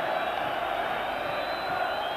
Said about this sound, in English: the Rangers fans cheering their team on to the very last year